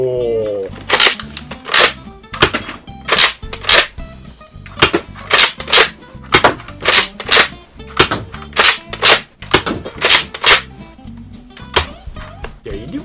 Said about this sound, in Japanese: 刺して戻して撃つ。